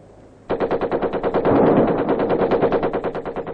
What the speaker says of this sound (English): It's dispelled just as firmly by the occasional chatter of machine guns.